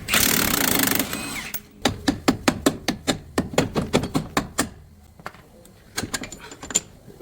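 Metal clicks and ratcheting taps from a 21mm wrench and socket loosening the strut bolts on a PT Cruiser during suspension work, a brief louder burst at the start followed by a rapid, uneven series of close, sharp ticks with short pauses.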